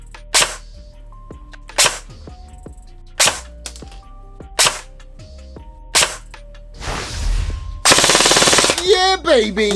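A Poseidon Punisher 5 airsoft gun fires several separate loud, snappy shots at steady intervals, then a dense, rapid full-auto burst at close range.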